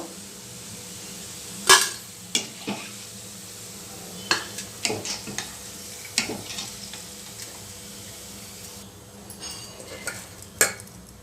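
Onion pakoda batter frying in hot oil makes a steady sizzle with scattered clinks and scrapes of a utensil stirring in the pan, close by and with no talking.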